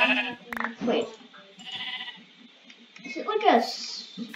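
Minecraft Java Edition sheep bleat in short wavering calls, a few scattered through the moment alongside game sound effects, with people talking over them.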